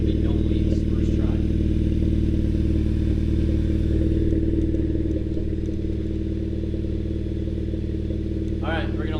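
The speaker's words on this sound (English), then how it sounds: "we were letting the engine warm up" A Hyundai Veloster Turbo with a custom axle-back exhaust idles while warming up, a steady low rumble droning throughout, with a few faint clatters over it.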